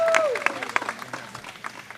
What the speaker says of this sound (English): let's give a round of applause for Marisol Alcantara